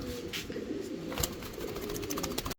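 High-quality pigeons coo softly and repeatedly nearby, with scattered light rustles and a sharp brief knock near the end.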